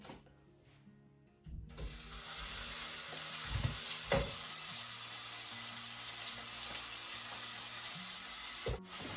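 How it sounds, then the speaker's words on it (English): Steak dropped into a hot pan with olive oil, bursting into a loud, steady sizzle that continues close by, with occasional scrapes and taps of the pan. "Pan is hot enough, so I'm going to put my steak on."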